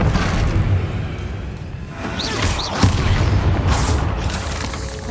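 In Hogwarts Legacy, the Confringo fire spell goes off as a deep, rumbling blast with crackling bursts, loud and sustained over the game's ambience, with no voices.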